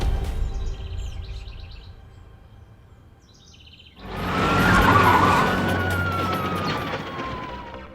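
A car speeds along with a rising whoosh of engine and road noise after a quieter opening, and a tire squeal sweeps down as it corners.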